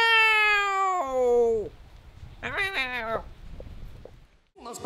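A person imitates cats meowing with long, drawn-out, wailing meows close to the microphone, followed by a second yowling meow and some short noises.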